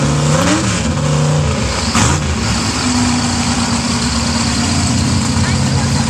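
A mega truck engine rumbles and revs loudly at sand drags in Melbourne, Florida, the throttle rising and holding with a steady mechanical drone as a voice talks over it.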